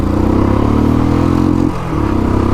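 A Royal Enfield Classic 350 with its stock exhaust thumps in first gear with a loud, close, even low-pitched beat. The rhythm drops briefly as the revs fall, then picks back up.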